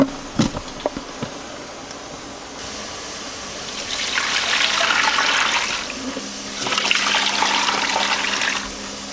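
Tap water runs into a pot or sink while rendered beef fat is washed, with a few clatters at the start, then two bursts of steady gushing water close by with no voices.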